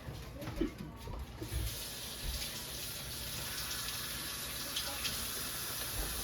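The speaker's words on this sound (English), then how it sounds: "wash my hands real quick." A kitchen tap runs steadily while hands are washed: a constant close hiss of flowing water with a few light splashes and clatters at the start.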